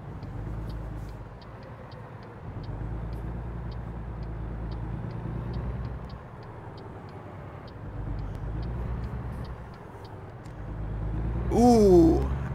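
A big rig's engine drones steadily through a U-turn in American Truck Simulator, a constant low rumble with slight rises in pitch, ending in a short sharp squeal.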